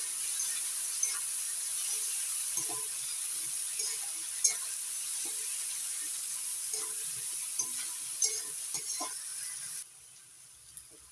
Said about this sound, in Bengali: এখন পেঁয়াজটা নাড়াচাড়া করে লাল করে ভেজে নিচ্ছি।